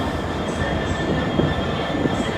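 A Freightliner freight train, the Tunstead to Hunslet service, rolls through Sheffield station with a steady low rumble of wagons and faint wheel squeal, close and continuous with no talk.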